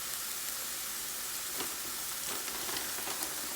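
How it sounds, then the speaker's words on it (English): A quesadilla sizzles and fries steadily in a pan, a constant broadband hiss with a few faint crackles and pops throughout, no talking. "On a separate pan, cook a quesadilla of your choice."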